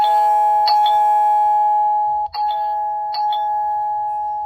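A loud, ringing chime from a Tapo D225 video doorbell plays a repeating ding-dong melody with sustained tones, close and clear, with no voices.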